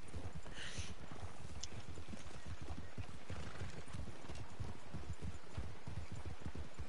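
Buckskin horse in Red Dead Online trotting with steady clip-clop hoofbeats, close and continuous over a low game soundscape, with a brief whinny-like cry near the start.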